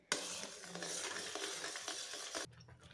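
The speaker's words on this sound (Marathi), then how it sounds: "खवा हलवताना असा पूर्ण तळापर्यंत हलवून घ्यायचा" Thickening khoa is stirred in a pan all the way to the bottom, with a soft, continuous scraping and faint sizzle up close, about two and a half seconds long, before stopping abruptly.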